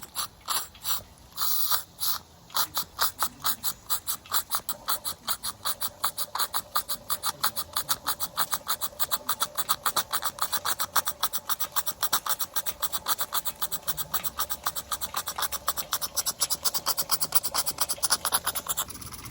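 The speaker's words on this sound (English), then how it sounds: "The engine's steaming very well" Stuart S50 and Cotswold Heritage Cirrus beam steam engines running together under steam, a steady fast mechanical clatter of rapid rhythmic ticks and chuffs that builds in pace, close and continuous with no talking.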